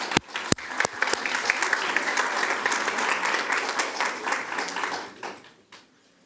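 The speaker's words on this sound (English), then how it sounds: "Let's give them a round of applause" A board of education meeting audience gives a sustained round of applause, dense clapping that swells near the start, holds steady, then fades out over the last second.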